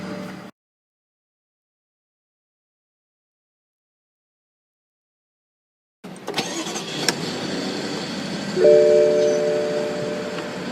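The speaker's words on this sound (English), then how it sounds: "what you're hearing there is a 3-liter turbocharged inline 6-cylinder engine" A BMW 3-liter turbocharged inline six-cylinder engine cranks and catches after a silent pause, then idles loudly and close with a smooth, even hum and a brief swell partway through.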